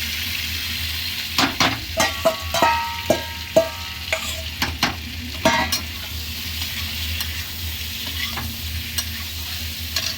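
Fried pointed gourd and potato pieces tipped into a sizzling spice mix in oil, with a run of sharp spatula knocks and scrapes against the pan, then a steady frying hiss that settles down; no voices.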